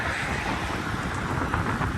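Steady roaring wind buffeting the microphone while cycling across a bridge at night, loud and unbroken with no distinct events and no talking.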